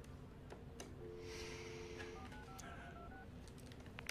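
A telephone number dialed on a keypad, a short sequence of clear tonal beeps at a steady rhythm, faint and close with quiet background hiss and breathing.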